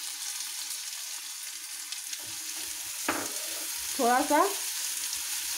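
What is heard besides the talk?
capsicum and green chili stir-frying for noodles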